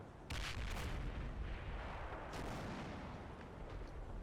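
Booming artillery impacts pound a jeep in a military war game, with a sharp blast near the start, another around mid-clip, and a dense rumbling roar sustained throughout.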